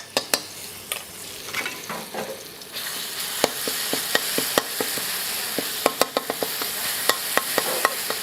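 Pounded chili sambal hits a hot pan and fries with a steady bright sizzle, while a metal spatula stirs and scrapes with repeated sharp clinks, close and continuous with no talking.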